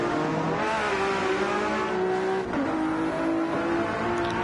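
Porsche and Ferrari race cars roaring through a sequence of turns, engines loud and close with shifting revs, downshifts and a steady high-pitched whine, no voices over it.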